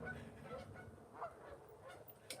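Geese honk outdoors, heard through a room as several short, moderately faint calls scattered over a quiet background, with no speech.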